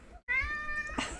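A house cat lets out one clear, drawn-out meow at close range, rising sharply after a short silence and then holding its tone.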